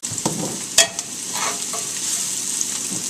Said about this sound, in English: You're going to saute this for about a minute, 2 minutes, until it starts getting brown.